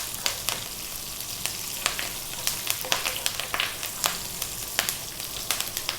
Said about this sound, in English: cumin seeds and the fresh curry leaves, and just for a few seconds we're going to throw them around